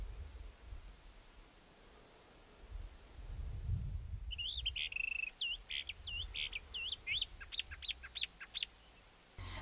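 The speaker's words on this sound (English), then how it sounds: "The northern mockingbird can mimic a continuous string of 10 to 15 bird species as it perches prominently on top of a bush or post." A northern mockingbird sings from an exposed perch in southwestern pinyon-juniper desert hills, giving a varied run of whistles, trills and repeated chirps after a quiet start, clear and moderately close over faint low rumble.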